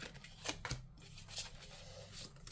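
Oracle cards are handled and shuffled close by, a soft papery rustle with a couple of slightly sharper flicks, faint and continuous with no talking.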